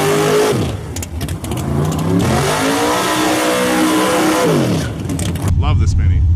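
A Mini car at a Grand Bend drag racing weekend, its engine revving hard and climbing through gears at high speed, loud and close, with rising and falling pitch sweeps before cutting to a lower idle-like drone.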